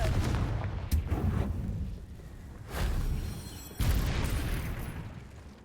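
The Confringo explosion spell being cast in a Harry Potter video game, producing loud booming blasts and rumbling bursts, several in sequence over a dense roaring background with no speech.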